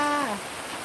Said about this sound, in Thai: ฝนกำลังตกเลยนะคะ